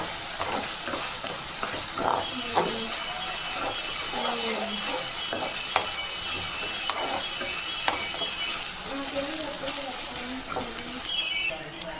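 Prawns fry in a pan with a continuous crackling sizzle, repeated scraping and clicking of a spatula stirring them, and a faint voice in the background.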